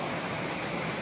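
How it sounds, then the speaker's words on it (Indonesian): Rushing water at the Umbul Lanang spring on the Kali Kuning river fills the air with a dense, even roar, close and continuous. "itu suara gemuruh,"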